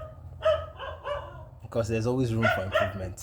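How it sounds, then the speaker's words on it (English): Dog barking in the background, a few sharp barks and yips mixed under someone speaking close to the microphone. "I don't know why this dog is barking."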